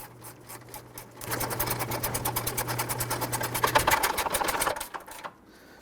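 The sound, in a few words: ratchet tightening radiator fan assembly bolts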